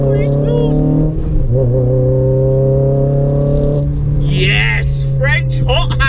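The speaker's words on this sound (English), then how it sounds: "This exhaust." A Renault Clio RS200 hot hatch exhaust booms under acceleration, a loud steady harmonic drone that shifts pitch midway, with brief bursts of wind and road noise near the end.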